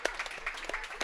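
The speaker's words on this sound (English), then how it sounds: "They're getting a good round of applause" Audience applause at a county fair livestock show, a short burst of scattered hand claps, moderately distant and fairly faint.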